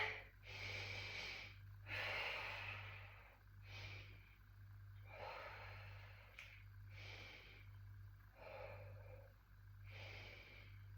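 Slow, quiet breaths taken while holding a beginner yoga pose, each inhale and exhale clearly separated by short pauses, soft and close with a low steady hum underneath.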